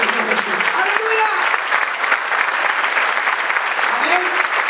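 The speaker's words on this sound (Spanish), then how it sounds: "Demos un fuerte aplauso al Señor Jesús." Steady, loud applause from a church audience honoring the Lord Jesus at an evangelistic gathering in Argentina, dense clapping filling the space with faint voices mixed in.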